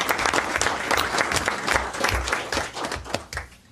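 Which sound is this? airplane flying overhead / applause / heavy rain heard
applause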